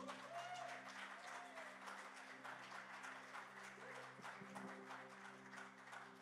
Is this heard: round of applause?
yes